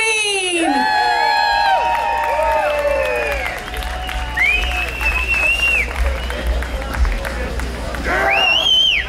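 A live outdoor crowd at a ribfest cheers and applauds for a national anthem singer, with loud whoops, high shouts and clapping filling the whole stretch, voices rising and falling throughout.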